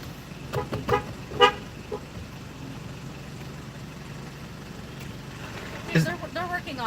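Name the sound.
car horn honking at a drive-through window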